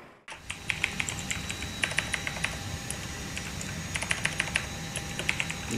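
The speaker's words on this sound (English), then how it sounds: "I'm just typing" Computer keyboard typing in a flight simulator cockpit setup, a run of quick light key clicks in irregular bursts over a steady background hum, with no talk.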